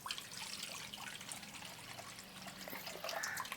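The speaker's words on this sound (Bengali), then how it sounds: "জলটা একটা পাত্রে ঢেলে নিচ্ছি।" Tender coconut water pours from the coconut into a bowl in a short, steady trickle with splashy liquid sound, close by and alone.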